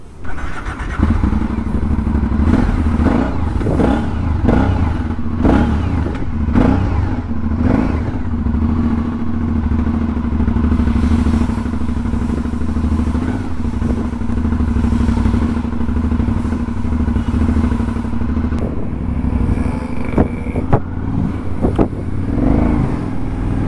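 An Aprilia Shiver 900 motorcycle rumbles close by while being ridden, its engine droning steadily with rising revs and occasional thumps and clatter, no talk.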